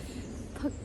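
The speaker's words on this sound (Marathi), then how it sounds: "पक्ष्यांचा आवाज येतो आहे खूप छान वाटतं फिरताना" A single brief bird call, owl-like and hooting, rings out once over soft ambient background in a quiet outdoor walking area at midday.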